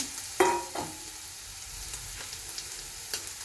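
Chopped onion fries in a pan with a low, steady sizzle, marked by a sharp clink near the start and a few quieter stirring scrapes after it.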